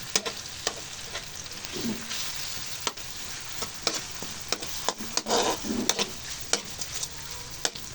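Canned ground meat frying in a pan over medium-high heat for pakbet, a continuous sizzle with sharp spatula clacks and scrapes as it is stirred, close and without speech.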